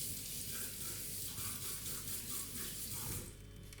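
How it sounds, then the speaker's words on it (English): Shrimp patties fry in a pan, giving off a steady, fairly quiet sizzle and crackle that continues unbroken and dips slightly near the end. "then we can start frying"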